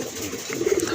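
A pair of large Chuina pigeons at a breeding farm give a short, soft burst of cooing, faint and close against a low background murmur.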